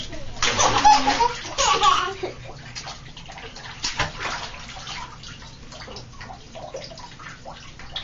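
Young children splash about in a home bathtub, with bursts of sloshing water and drips, child chatter and laughter mixed in, loudest in the first couple of seconds.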